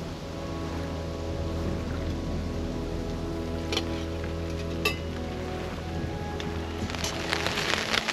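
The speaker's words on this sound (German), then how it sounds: "Wird aber wahrscheinlich nur ein kurzer Regenschauer sein." A brief rain shower patters steadily onto a camping tarp at a lakeside canoe camp, dense and continuous with a few sharper drops and a low steady hum underneath.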